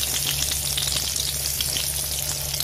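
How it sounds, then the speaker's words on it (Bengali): Eggplant pieces frying in hot oil over a medium flame, a dense, even sizzle with crackling pops throughout, close and fairly loud. "এবার আমি বেগুনগুলো মিডিয়াম ফ্লেম করে ভেজে নেব"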